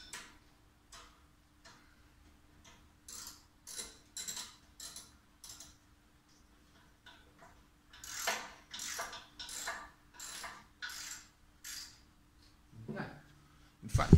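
Bolts being tightened on a Charnwood stove heat shield, a series of quiet rhythmic ratchet clicks coming in bursts, with a person speaking intermittently in between.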